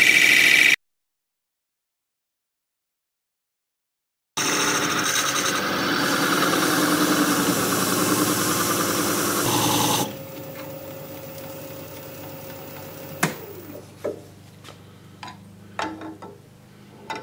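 A wood lathe runs with a steady motor hum and rough cutting noise as a tool undercuts a turned piece at an angle. The cutting then stops, leaving a quieter hum with a few sharp knocks, after a silent gap near the start.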